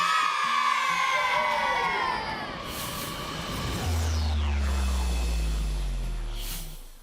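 A children's team at a Sjong Junior event in It Haskerfjild, Joure, loudly shouts a rude verse together in raucous crowd-like voices, with whoops and falling sweeping tones layered over a deep sustained hum in the second half.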